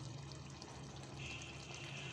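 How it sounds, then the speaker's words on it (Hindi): Water pours steadily into a pot of rice, a soft continuous splashing trickle that holds faint and even throughout, with no voices over it. "अब मैं इसमें पानी ऐड कर रही हूँ, 4 कप पानी।"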